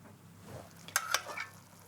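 A spoon scrapes and clinks against a dish while ladling sauce over potato meatballs: two quick, quiet taps close together, then a softer scrape, with no talking.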